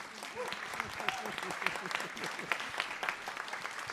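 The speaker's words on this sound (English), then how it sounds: "you can also applaud them for their really good work on the game" A room of conference attendees at a Berlin games event claps for the game's developers, a brief burst of dense, fairly close applause with scattered sharper claps throughout.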